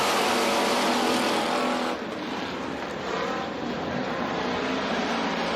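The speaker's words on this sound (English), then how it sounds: "we're back to green flag racing once again" Pure stock race cars racing on a dirt oval track at a feature event, a loud continuous roar of engines that eases slightly partway through, with no talk.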